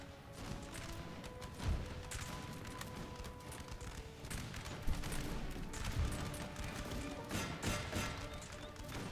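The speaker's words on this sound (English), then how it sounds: "we're shooting our own men" Musket volleys in a Napoleon: Total War battle at Vienna, ragged distant crackling fusillades with a few sharper louder shots rising out of a constant battlefield rumble, fairly faint throughout with no talking.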